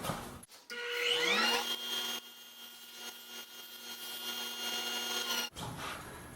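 A power saw spins up and cuts through a 1/8 inch plywood back panel, a loud steady whine with a rising start, then stops abruptly.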